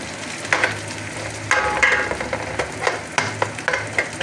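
Garlic frying in a pan for simple Filipino egg fried rice, a continuous close sizzle broken by the scrape and clatter of a spatula stirring at irregular intervals.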